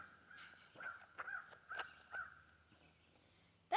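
A crow cawing, a series of harsh repeated caws in an irregular rhythm, moderately distant and fairly faint over quiet background noise.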